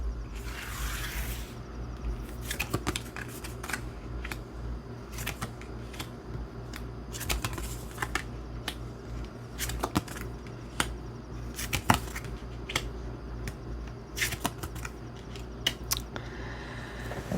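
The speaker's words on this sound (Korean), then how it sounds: "6장의 카드 한번 뽑아 볼게요" Tarot cards being shuffled and six drawn: a steady run of soft papery flicks and sharp snaps, fairly close and quiet, over a low background hum, with no talking.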